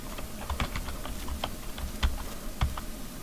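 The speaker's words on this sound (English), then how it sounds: "watch as I type Administrator" Quick run of keystrokes on a computer keyboard as a Windows user name is typed at a sign-in screen, about a dozen crisp clicks close to the microphone, no voices.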